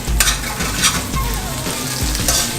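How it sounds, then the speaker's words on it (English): Food for Jamaican-style brown stew chicken frying in a pot with salt, giving a steady loud sizzle and crackle, with occasional stirring scrapes and light clinks of the pan. "put it in while this is frying."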